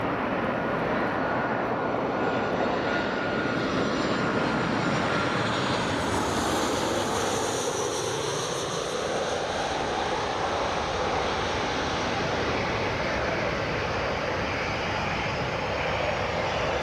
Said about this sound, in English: Ryanair 737 coming in now